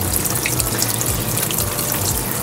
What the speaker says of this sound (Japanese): ジーパン1本だけ入れて洗濯。